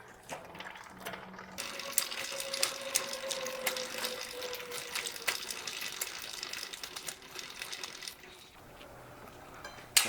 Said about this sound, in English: Turn the winch wheel counterclockwise